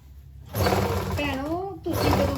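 A sewing machine stitches a seam along the crease of a lined suit, giving a steady whirring drone with voices talking over it.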